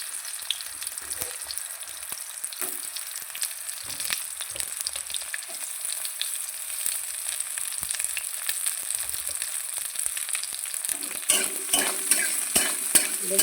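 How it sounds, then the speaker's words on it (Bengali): Green chilies and eggplant fry in hot oil, a steady crackling sizzle running throughout, with scrapes and taps of a spatula stirring in the pan, close up and without talking. "লঙ্কাটা ফুটতে শুরু হয়েছে দেখে নাও লঙ্কাটা প্রায় ভাজা হয়ে গেছে"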